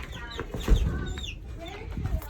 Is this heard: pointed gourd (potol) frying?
no